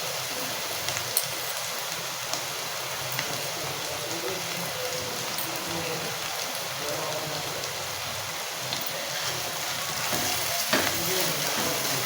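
Cumin seeds hit hot oil while zunka is being made, giving a steady, dense crackling sizzle that fills the whole stretch with a few louder pops near the end.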